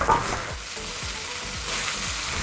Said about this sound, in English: I want to give it a bit of a flip and then let it cook again, get some more color.